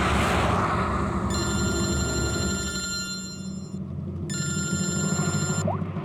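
A phone rings with an incoming call, two long electronic trilling bursts separated by a brief gap, heard over a steady background rumble without speech.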